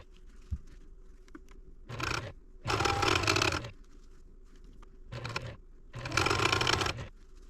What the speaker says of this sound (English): So let's go sew this seam.